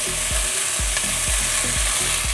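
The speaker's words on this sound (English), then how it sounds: "we're gonna add in our garlic, our onion, our carrots," Garlic, onion and carrots sauté in a pot after bacon was cooked, giving a dense steady sizzle with regular stirring thumps every half second or so, no voices.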